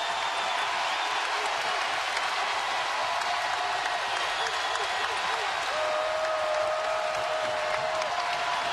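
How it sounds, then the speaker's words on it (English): A large crowd roars at a women's college basketball game between Mississippi State and South Carolina, a dense steady arena din with shouting and applause, broken by a few sharp whistle-like tones, sustained for several seconds. "This big crowd noisy."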